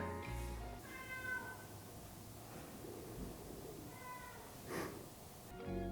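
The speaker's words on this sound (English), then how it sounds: "This might be the cat calling" A cat meows indoors, a few short separate calls spread across the stretch, faint and fairly close against a quiet background.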